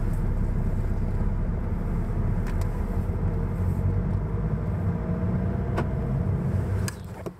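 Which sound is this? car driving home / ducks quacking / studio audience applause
car driving home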